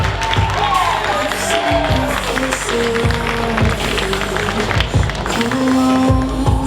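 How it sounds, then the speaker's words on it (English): Audience applause at a DreamHack Winter 2022 cosplay contest, a steady, dense wash of clapping and crowd noise that continues throughout with music or tones underneath. "A big round of applause for Louisa Tiger."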